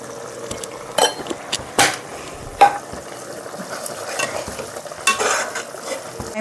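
Spices with chilli powder fry and get stirred for boti curry, a steady sizzle broken by several sharp spoon clanks and scrapes against the pan, close up with no voices.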